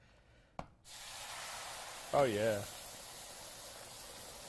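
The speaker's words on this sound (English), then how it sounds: "as soon as we put it in there, it's going to start to sizzle right away" Sauce hisses steadily in a hot pan as it reduces and thickens, a constant sizzle that starts abruptly after a brief clatter, with a short spoken exclamation over it.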